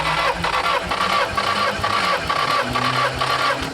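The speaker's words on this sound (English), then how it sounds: "crank it, see what we get." Car engine cranking steadily on the starter with the throttle held wide open during a compression test, a loud, close, rhythmic chugging that runs on without catching.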